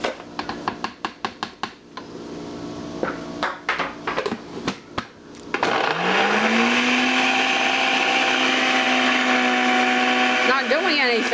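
A home blender that lacks the power for a homemade slushie clatters and knocks in uneven bursts, then settles into a loud, steady motor whine whose pitch climbs briefly before holding until the end.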